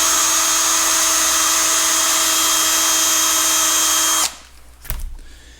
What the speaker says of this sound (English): That cleans them up nicely. Round brush and a drill